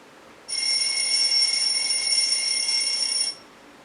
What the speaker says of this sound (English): That is the sound of an alarm clock.